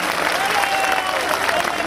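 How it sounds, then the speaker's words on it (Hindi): Large crowd applauding to welcome General Bipin Rawat at a statue unveiling for a martyred soldier in Barmer, Rajasthan, a loud continuous roar of clapping with faint voices mixed in. "जनरल बिपिन रावत साहब का जोरदार तालियां बजाकर हम स्वागत और"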